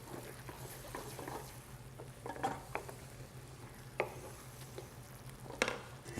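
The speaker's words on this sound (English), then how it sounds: "you see how it's sort of just simmering, and it's absorbing the liquid" Lobster asparagus risotto simmers in stock with a faint, low bubbling hiss, broken by a few soft clicks and taps of a spoon against the pot, with no talk.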